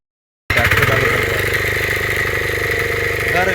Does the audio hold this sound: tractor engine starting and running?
yes